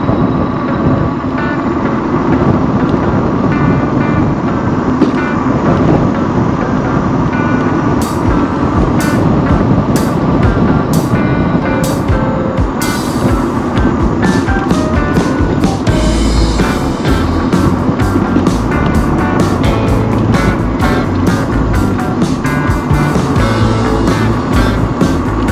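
Scooter ridden through South Holiday Campground at Benbrook Lake, its engine a steady, close droning hum for the whole ride, with rushing wind over the microphone and occasional thumps and rattles from bumps along the way.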